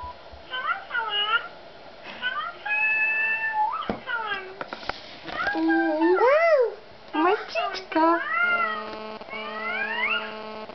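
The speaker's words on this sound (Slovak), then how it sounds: "mačička ti bude spievať" A recording of a singing cat plays, its meows bending into sliding, tuneful wails in a series of drawn-out calls, some held and wavering, with short gaps between phrases.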